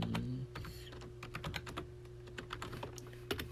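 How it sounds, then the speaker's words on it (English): Quick clicks of a computer keyboard during a Roblox game session, an irregular run of close, soft keystrokes over a low steady hum. "Don't mind my typing."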